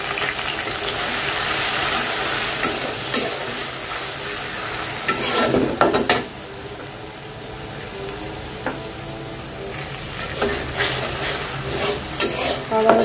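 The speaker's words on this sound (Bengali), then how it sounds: "আদা রসুন বাটা দিয়ে দিলাম" Ginger-garlic paste frying with onions and bay leaves in hot oil, a steady close sizzle broken by clattering spoon strokes against the pan, with no one talking.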